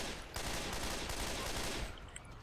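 Rapid gunfire in the zombie shooter Left 4 Dead 2, a dense fusillade of overlapping shots that sets in sharply and continues steadily, loud and continuous before thinning out near the end.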